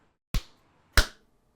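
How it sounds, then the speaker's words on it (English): Two sharp hand claps, about 0.6 seconds apart, close and crisp, each with a short decay and nothing else heard before or after, made to sync video and audio at the start of a podcast recording. "We have to clap to sync the video and the audio."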